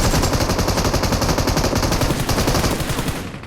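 Automatic gunfire in a video game rattles in a loud, rapid, unbroken burst up close, then tapers off at the very end.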